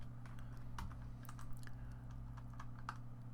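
Fingers typing on a computer keyboard, light scattered key clicks in short irregular runs, quiet and close over a steady low hum, with no speech.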